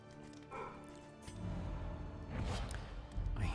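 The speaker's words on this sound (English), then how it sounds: "I hear my pupper barking" A pet dog barks a few short, sharp times at middle distance, with a soft whimper and scattered background noise between the barks.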